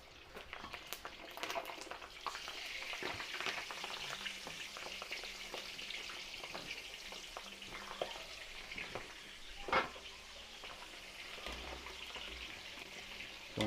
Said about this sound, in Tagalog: Tapos, prito na rin tayo dito ng embutido.